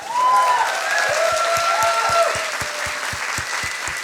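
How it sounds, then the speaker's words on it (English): Audience applause at a science slam event, a steady wash of many hands clapping throughout with a few faint tonal sounds early on, loud and sustained to the end. "So a big applause for everybody of us."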